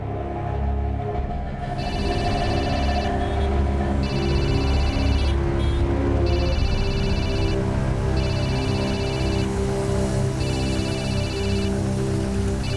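A telephone rings repeatedly in a domestic drama scene, its bright electronic trills coming in regular bursts over a sustained bed of background music, with no talk.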